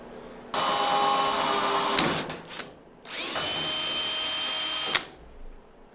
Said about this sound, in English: drill it from the other side through the hole